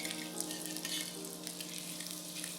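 Malay meat patties made with coconut sizzle steadily in a hot frying pan, a close, even crackle of oil with small popping bursts and no voices.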